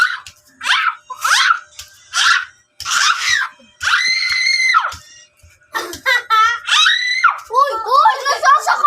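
A child screams loudly over and over in short, shrill bursts with brief gaps, joined near the end by higher squeals and voices close by.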